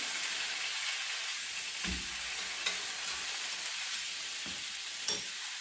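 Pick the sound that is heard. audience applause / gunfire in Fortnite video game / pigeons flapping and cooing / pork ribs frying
pork ribs frying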